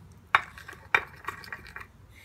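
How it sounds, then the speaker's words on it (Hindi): A spoon clinks against a bowl while a face paste mixed with rose water gets stirred, with a few sharp taps followed by softer scraping strokes, close and quiet with no talking. "इसको मिक्स करेंगे।"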